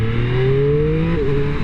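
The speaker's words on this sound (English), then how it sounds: "the Triumph 3-cylinder engine is just set up a little different. And it has a bit of a different sound to it." A 2024 Triumph Street Triple 765 R three-cylinder motorcycle engine revs with a steady, rising tone that briefly dips near the end, close and loud with no voices.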